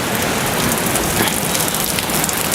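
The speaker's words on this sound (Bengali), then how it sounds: "সুন্দরবনের এরকম রুম থেকে আপনি এই বৃষ্টি দেখবেন" Heavy rain pours steadily outside a room in the Sundarbans, a dense, continuous hiss of drops close by with no voices and only faint hints of distant thunder.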